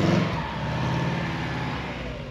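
A car passes at an overland trailer expo, a steady broad engine and tire rumble that holds loud and close throughout before easing slightly.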